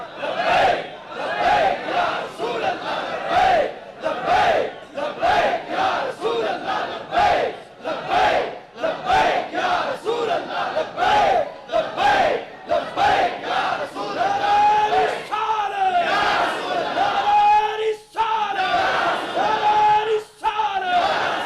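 Large crowd at a religious seminar chanting the Labbaik slogan in loud, rhythmic bursts, many voices shouting together in repeated pulses with brief pauses, close and forceful throughout.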